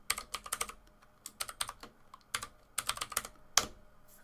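Keys clatter on a computer keyboard as a Linux terminal command is typed, close and clear, in quick bursts of several keystrokes with short pauses and one sharper final tap near the end.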